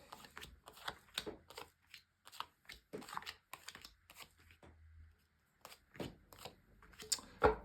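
A deck of tarot cards is shuffled by hand in a quiet room, giving a series of close, crisp riffling and slapping bursts in an irregular rhythm with brief pauses between them.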